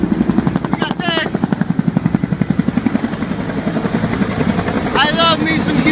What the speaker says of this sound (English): I love me some Huey helicopters.